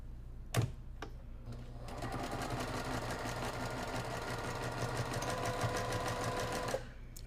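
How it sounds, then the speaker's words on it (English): Sewing machine stitching a quilt block with a quarter-inch seam, a steady close mechanical whir that runs on alone for several seconds after a couple of brief clicks. "we're going to sew with a 1/4 inch seam"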